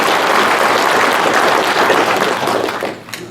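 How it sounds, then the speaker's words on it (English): Dense applause from a large audience at a political rally speech, loud and steady before thinning out toward the end. "Give yourselves a round of applause for that."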